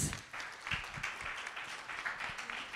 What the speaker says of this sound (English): So can we give ourselves a huge round of applause?